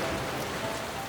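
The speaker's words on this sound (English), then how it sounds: "for days and weeks he poured forth rain till the rivers overflowed" Steady rain sound effect under a narrated folk story of days and weeks of downpour flooding rivers and rice fields, a continuous even hiss without any voice.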